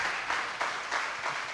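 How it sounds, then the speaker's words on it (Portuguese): A congregation applauds at an anniversary church service, giving a soft, steady patter of many hands clapping with slight rhythmic pulses. "aplaudo o nome do Senhor mais uma vez"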